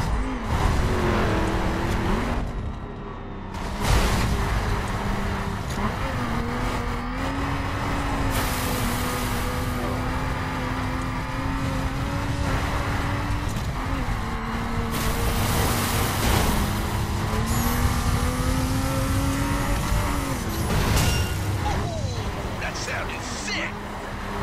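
A car tears along in The Crew video game, its engine droning steadily and loud throughout with occasional thumps and revs as it rides over bumps and gets thrown around.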